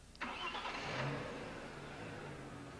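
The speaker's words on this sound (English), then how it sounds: "Start the engine." Audi S4 B5 engine starting after reassembly, a sharp crank catch followed by a brief rev that settles into a steady idle, close and fairly quiet.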